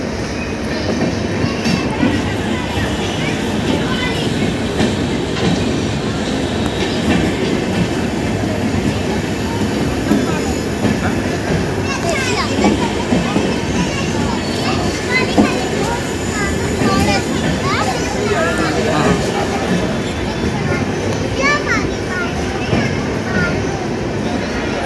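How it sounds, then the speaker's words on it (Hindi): The long Ganga Sutlej Express, running between Dhanbad and Ferozpur, rolls past close by in a steady, loud rumble of wheels and rattling carriages that lasts throughout, with some people talking beneath it. "कितनी लंबी है ट्रेन है ना"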